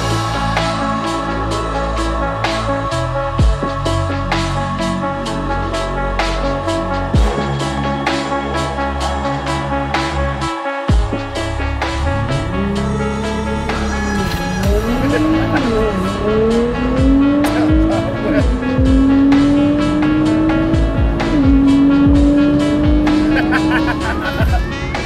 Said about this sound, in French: on va faire un test d'accélération avec la GTR